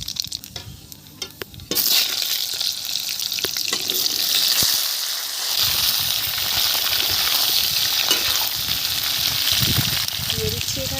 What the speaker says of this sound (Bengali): দিয়ে দিচ্ছি তেল, তেল গরম হয়ে গেছে, দিয়ে দিচ্ছি কালো জিরে ফোড়ন